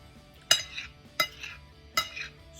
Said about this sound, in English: Scrape around the gravy, mix it up with the rice and everything.